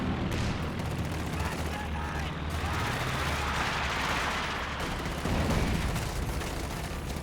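Anti-tank guns in a Company of Heroes 2 battle fire amid a dense, continuous din of gunfire and explosions, loud throughout, with a voice speaking over the barrage.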